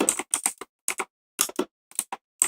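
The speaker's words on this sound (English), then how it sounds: "Sorry for the keyboard noises." Someone types on a computer keyboard during a live trading session, producing quick irregular clusters of crisp key clacks separated by short pauses.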